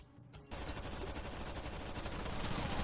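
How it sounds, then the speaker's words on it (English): Rapid gunfire in Rainbow Six Vegas 2 aimed at the player, a steady crackling barrage that starts after a brief quiet moment and keeps up at moderate loudness, swelling into a sharper burst right at the end. "Stop shooting bullets at me!"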